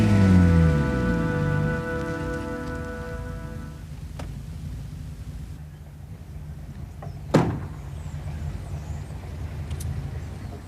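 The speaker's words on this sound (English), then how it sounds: "We're just going to sit there and let it rain on you." Rain falls as a steady broadband hiss under a car's idling engine, with a sharp thump near the end like a car door shutting.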